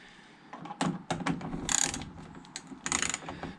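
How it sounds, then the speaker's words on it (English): Quarter-inch ratchet fitted with a converter and Phillips or PZ bit backing out screws on a Lexus IS200 in the boot area, giving quiet, irregular clicking bursts with short pauses between them. "I've had to resort to a 1/4 inch ratchet, with a converter on it, and then a yeah, Phillips head or PZ bit in there"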